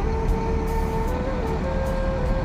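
Buses idling at Kampung Rambutan bus terminal in Jakarta, a steady low diesel engine rumble with a faint sustained whine, continuous and fairly close, no talk.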